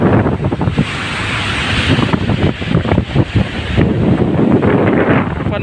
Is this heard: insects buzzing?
no